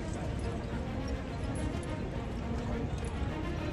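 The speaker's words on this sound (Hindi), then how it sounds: "और ये बसेज और ये घोड़ा बगी स्टाइल में गुजर रही है।" A horse-drawn tonga carriage passes along a city street, its hooves clip-clopping steadily beneath a person talking and dense background traffic noise.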